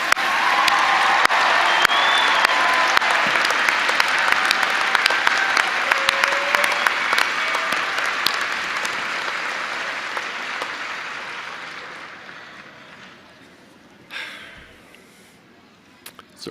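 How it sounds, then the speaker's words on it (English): Sustained applause from a large audience for graduates at a Purdue Global graduation ceremony, loud and dense at first, then tapering off into a few scattered claps. "Let's give a round of applause to all of our graduates."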